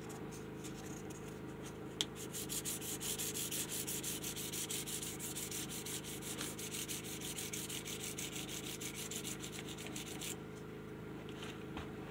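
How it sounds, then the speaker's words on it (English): Guitar fret ends being polished by hand during a build, a steady close scratchy rubbing that runs continuously with a rhythmic sanding texture, no voices. "is also polishing up the ends of the frets as I'm doing this."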